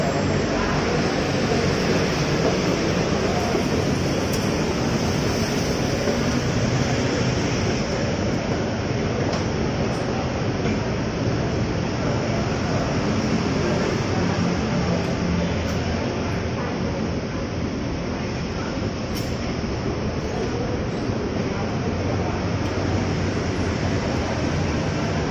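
A steady, loud wash of broadband noise fills an elevated commuter train station on its way to the third-floor platform in Greater Jakarta, with continuous hum and rumble and no distinct events.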